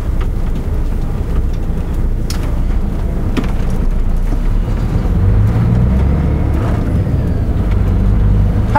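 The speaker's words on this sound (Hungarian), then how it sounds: "Hát ott megy a kamion." A truck rolls past on a street with a continuous loud low rumble and a rising engine drone near the end, with no talk.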